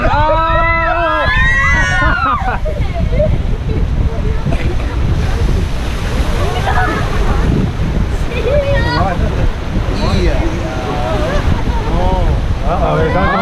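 Splashing and rushing water from a raft on the Kali River Rapids water ride at Disney's Animal Kingdom, a steady loud wash with wind buffeting the microphone, while riders shout and talk excitedly over it throughout.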